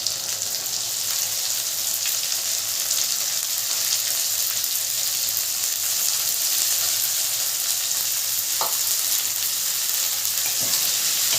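A medium tomato and onion pieces sizzle in hot oil with garlic paste for a silver bele fish kalia, a loud, continuous close hiss with only faint stirring clicks.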